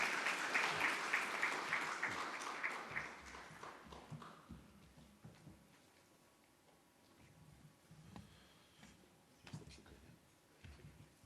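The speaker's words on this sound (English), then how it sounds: "Please give them another warm round of applause as they make their way here." A hall audience at the Namibia public-private forum applauds loudly for the first few seconds. The clapping then thins and fades into scattered footsteps, shuffling and light knocks as people move to the stage.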